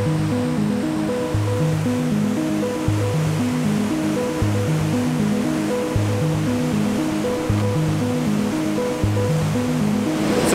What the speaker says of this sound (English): we're precariously walking along the rock ledge beside the waterfall.